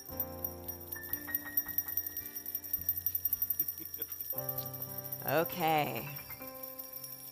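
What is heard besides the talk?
audience ringing bells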